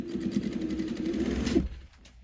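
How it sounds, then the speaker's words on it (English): A sewing machine runs steadily, stitching a fabric tote bag with a fast, even mechanical whir at close range before slowing and stopping near the end. "sew 1/4 of an inch allowance on all 4 sides that have cut"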